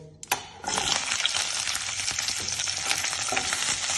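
Chopped bell peppers sizzle and crackle in refined oil in a pan on a gas stove. A loud, steady frying hiss follows a brief clatter as they go in.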